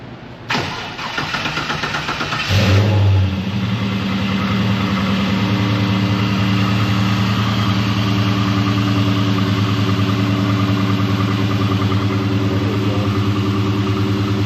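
A 1935 Ford fitted with an LS1 V8 and headers fires up with a brief crank and catch, then settles into a steady, loud, close idle with a deep throbbing rumble and no talk over it.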